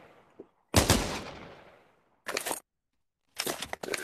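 Gunfire in the VR shooter Pavlov: a loud burst of shots with a long decaying echo, then two shorter bursts of rapid fire separated by silence.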